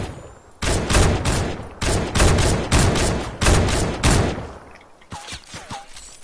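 Video game gunfire in repeated bursts of loud rapid shots, close and punchy, with brief pauses between volleys and a few quieter distant pops near the end.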